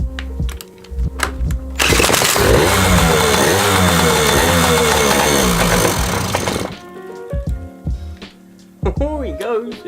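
Yamaha PW80 motorbike with a rusty old engine, loud rough two-stroke running and revving for several seconds close by, then cutting out, with people talking and clattering before and after.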